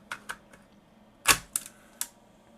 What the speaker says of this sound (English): let's go ahead and pop a tape into it.